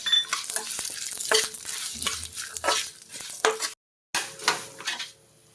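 Sesame seeds sizzle in a hot pan with coriander seeds, urad dal, mustard and cumin, stirred in repeated scraping strokes, close and moderately loud, with a brief silent gap near the end.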